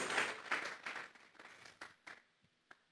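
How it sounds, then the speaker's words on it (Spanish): A church congregation claps as an offering to God, a burst of applause that quickly thins into scattered, fading individual claps with a few last isolated hits. "Vamos a regalarle ofrenda de palmas al Dios de la gloria"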